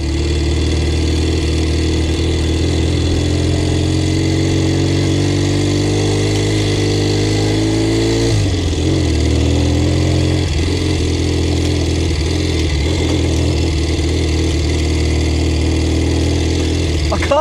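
A Triumph-style motorcycle engine, a stunning Smith-styled bike, idles steadily and close by, its low, even throb running throughout with a slight shift in pitch midway.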